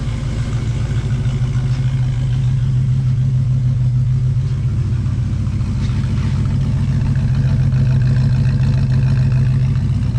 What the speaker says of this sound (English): Car has a pretty good little sound to it for a 5-liter.